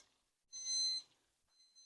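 A cooking thermometer alarm sounds during fried chicken prep, a short faint electronic beep that holds for about half a second, then a second quieter beep begins after a pause.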